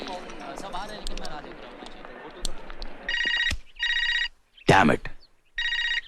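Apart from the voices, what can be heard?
telephone ringing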